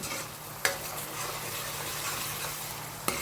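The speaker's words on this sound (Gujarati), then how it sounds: "બસ આ ગ્રેવી થોડી પાકવા દઈશું." Spicy gravy simmering in a pan on a gas stove, a steady close sizzle and bubble throughout, with two sharp clicks of a utensil against the pan, and no talking.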